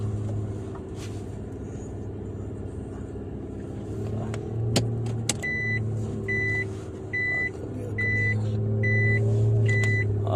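A garbage truck stands idling nearby, its engine a steady low rumble throughout, with a few faint beeps and passing traffic noise mixed in.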